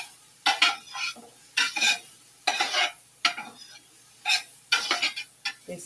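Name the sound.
onions caramelizing in a pan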